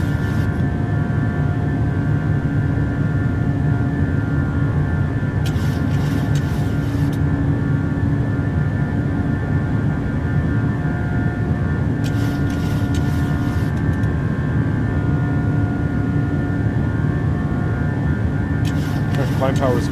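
Steady, loud jet engine roar from a PMDG 737-800 at climb power in Microsoft Flight Simulator, with tonal whine over a broad rumble continuing throughout, briefly broken by short bursts of hiss.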